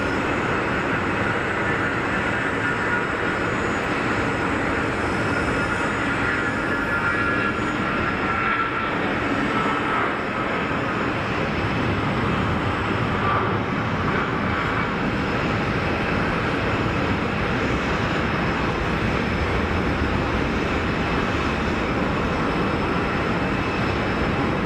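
EasyJet airliner rolling along the runway at Geneva Airport, a steady broadband jet roar that holds at an even level throughout with no voices.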